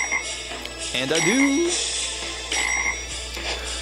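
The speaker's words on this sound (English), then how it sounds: "this is the one where they want me to kick 12 trillion frogs" Frogs croak in the mobile game Serious Sam Kamikaze Attack, a cartoonish rising croak over busy game music and effects, with someone talking briefly over it.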